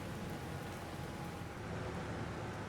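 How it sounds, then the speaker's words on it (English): Rain falls steadily on a farm, a constant soft hiss of drops on surfaces, faint but unbroken and with no voices. "So given it's raining"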